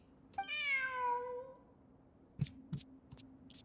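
Cat in the video game Genshin Impact giving one clear, drawn-out meow, followed by a few soft clicks and taps in an otherwise quiet scene.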